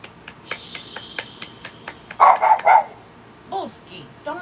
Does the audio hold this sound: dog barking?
yes